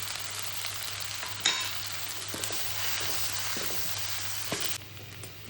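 Amaranth stems with masala sauté in a pan, giving a steady moderate sizzle with occasional stirring scrapes and a sharp clink, close and without speech.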